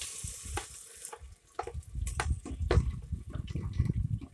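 Ground masala hitting hot oil in a pan for an anchovy fish curry, sizzling and crackling steadily at close range with a brief lull before the frying swells louder again, no voices.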